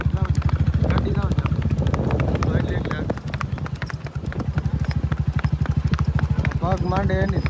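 Rhythmic clip-clop of a horse's hooves on pavement, steady and close throughout, with people talking over it during a horse photo shoot.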